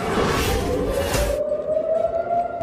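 An air raid siren sounding over Tel Aviv as a missile warning, a steady slowly rising wail heard at a distance as a burst of broadband noise cuts off partway through.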